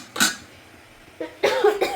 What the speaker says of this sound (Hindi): मुझे खांसी सी हो रही है